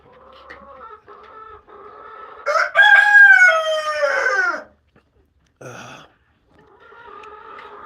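A large, full-grown speckled backyard rooster crows loudly and close by, with softer chicken clucks and murmurs before and after the crow.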